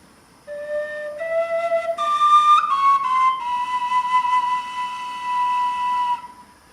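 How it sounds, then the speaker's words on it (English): A whistle-like flute plays the Super Mario warp whistle melody of clear, descending and rising notes, ending on a long held tone, solo and close. "how to make a Mario warp whistle"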